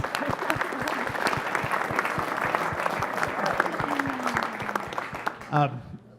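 At a subnational climate finance talanoa, an audience applauds a pledge of 100% renewable energy, many crisp claps close by, with a voice speaking briefly near the end as the clapping fades.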